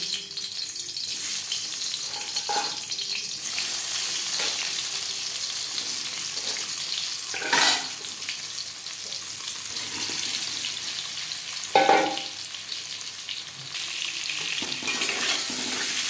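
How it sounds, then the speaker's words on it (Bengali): Potatoes fry in hot oil for chicken biryani, giving a loud, steady sizzle throughout, broken by a couple of sharp clatters of stirring. "সবার প্রথমে আমি আলু ভেজে নেব তেল গরম হয়ে গেছে এবার দিয়ে দেবো আলু"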